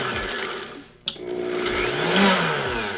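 Food processor grinding pine nuts for basil pesto, a loud, close motor whir that stops briefly about a second in, then restarts and runs steadily to the end with a rising pitch.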